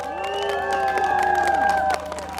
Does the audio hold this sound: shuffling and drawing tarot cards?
no